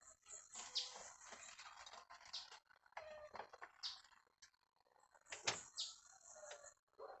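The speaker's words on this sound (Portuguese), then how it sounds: "Passarinho." A small bird chirps in short, bright bursts at a rural homestead, a few scattered calls spread through otherwise quiet surroundings with occasional soft knocks.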